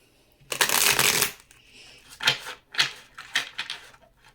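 Tarot cards being shuffled by hand, a long riffling burst followed by several shorter, crisp rustling bursts, close and fairly quiet with no talk.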